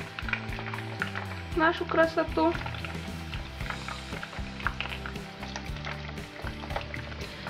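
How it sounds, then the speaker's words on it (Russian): Eggs frying in a pan with sausages give a steady sizzle and crackle beneath continuous background music, with a person speaking briefly over it partway through. "Так, и жарим до готовности."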